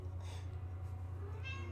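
A house cat meows twice, fairly faint and close, against a steady low electrical hum in an indoor room.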